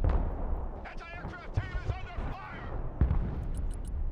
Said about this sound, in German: Da hat jemand Napalm hingeschossen.